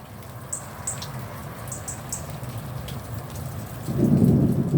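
Heavy rain pours steadily, then a deep rumble of thunder rolls in near the end and swells louder over the downpour.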